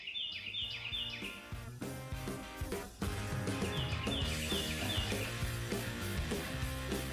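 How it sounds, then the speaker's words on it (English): A bird sings repeated chirping phrases over a busy layered background of other sounds, moderately faint and continuous. "Y'all hear that bird?"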